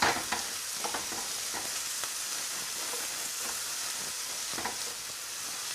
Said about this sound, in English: So keep stirring your onions and leeks.